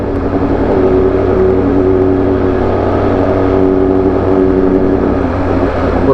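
A Suzuki Hayabusa motorcycle engine drones loud and close with a steady whine under throttle, holding a sustained, even pitch through the clip.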